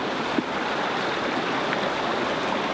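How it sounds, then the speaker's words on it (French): The Cascade de Mérel waterfall in the Vosges at night gives a steady, close rush of falling water, an even broadband roar that holds without a break throughout. "J'entends aussi la cascade."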